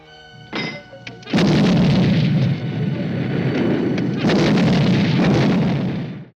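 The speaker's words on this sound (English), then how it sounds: "he has the gorillas fire their cannons. Fire!" Heavy booming cannon fire, a sustained roar of blasts that swells loudly after a brief quieter start and rumbles on for several seconds.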